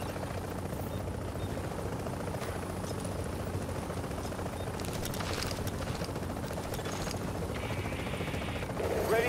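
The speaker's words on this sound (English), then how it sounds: "Chopper is inbound." A helicopter arriving for extraction in The Division, a continuous dense rotor and engine roar that stays steady and grows slightly louder toward the end, with faint scattered sounds on top.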